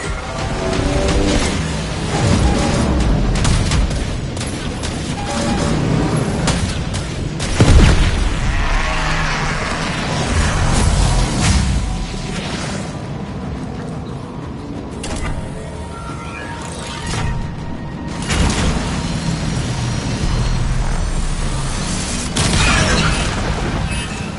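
A starship reactor detonates in the Warframe Railjack space battle, a dense, sustained roar of booms and creaking mechanical rumble with a heavy blast hitting partway through, loud and continuous with no talk.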